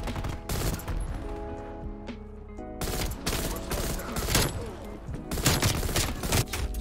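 An M16 rifle in Call of Duty Cold War multiplayer fires in rapid, loud bursts of gunfire. The shots repeat in clusters over game sounds, with a short lull in the middle.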